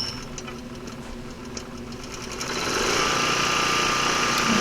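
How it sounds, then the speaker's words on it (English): A portable generator is pull-started and settles into a steady running drone that grows louder and rougher partway through, with a mechanical rattle over a constant hum and no talking. "cranking the generator up, making sure that it's running correctly"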